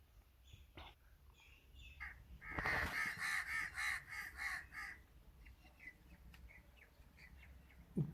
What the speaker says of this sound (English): And these are the crows. They are celebrating.